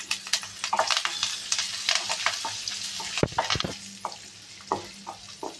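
Ginger garlic paste and curry leaves frying with onions for a tomato cauliflower curry, close-up sizzle broken by irregular spoon scrapes and clanks against the pan as it is stirred, with no talking.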